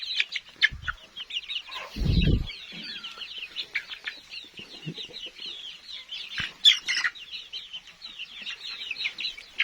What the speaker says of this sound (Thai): เป็นลูกไก่ครับ ชุดนี้